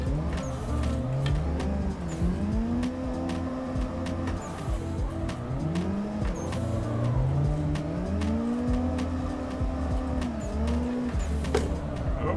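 A drift car in the Assetto Corsa sim, with mods and tandem drifting, revs hard in repeated rising engine sweeps while the tires squeal continuously through linked slides.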